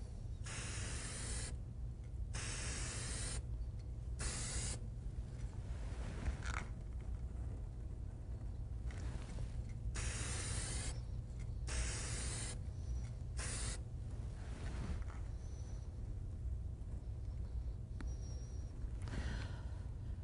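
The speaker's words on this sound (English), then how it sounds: "And there we have the first coat of spray paint on our dragster." A spray can paints a small model dragster during finishing, a steady close hiss in long bursts broken by short pauses between passes, alone throughout.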